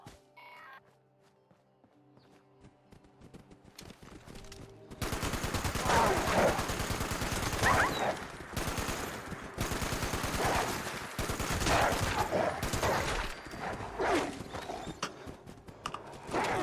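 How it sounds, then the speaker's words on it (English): Two-shot hunting rifle gunfire in the video game Fallout 76: a quiet, tonal start gives way to loud, dense, repeated shots that keep going for over ten seconds, with no talk. "Two-shot hunting rifle."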